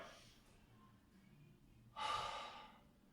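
A single sharp inhale taken while seated on a chair, leaning on the slightly lower front edge of the seat, a brief airy breath standing out clearly from near silence.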